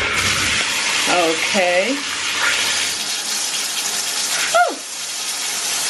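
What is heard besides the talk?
water running from a bathtub spout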